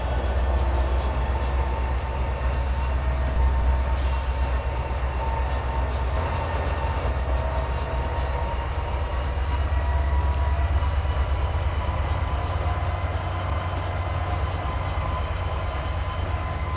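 A train runs along the tracks in a steady, continuous rumble with faint rhythmic clicking, loud and unbroken throughout, with no voices.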